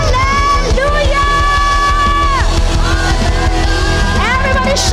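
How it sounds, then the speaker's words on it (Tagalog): Church congregation shouting hallelujah together, a loud, dense crowd yell blended with steady, upbeat worship music and singing throughout. "Everybody shout hallelujah."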